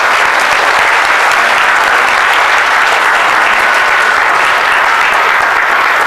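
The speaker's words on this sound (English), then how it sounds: "claps for again the panel members once more, please" Audience at a panel discussion event applauding the panel members, dense and loud sustained clapping from a large crowd throughout.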